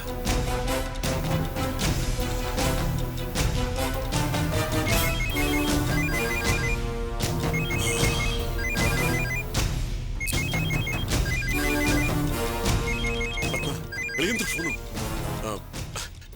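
A repeating electronic ringtone chirps in short bursts over loud background music, the ring pattern recurring steadily throughout.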